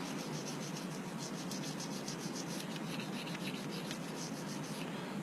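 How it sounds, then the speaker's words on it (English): Steady bristly toothbrush scrubbing on 1911 pistol parts, a continuous brisk rubbing close up with no pauses and no voices. "I'm just going to take my toothbrush and do a little work inside here."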